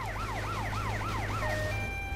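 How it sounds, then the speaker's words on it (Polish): An ambulance siren from the video game GTA Vice City wails in a loud, repeating rise-and-fall cycle, about five sweeps in two seconds, over a low engine hum, then shifts to a steadier tone near the end. "Myślałem, że to policja, a to karetka."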